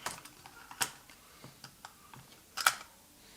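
Plastic shell of a Canon Speedlite 580EX II flash being eased open with its screws removed, giving a string of light close-up clicks and creaks, with a sharper crack near the start and a louder snapping pop near the end.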